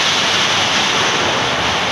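Rainwater pours and drips steadily through a leaking roof during rain, a continuous broad wash of falling water filling the space closely and loudly, with no speech.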